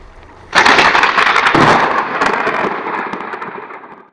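A sudden loud burst of thunder during a Wisconsin thunderstorm, a sharp crack followed by a long rumbling roll that slowly fades, heard alone with no voices.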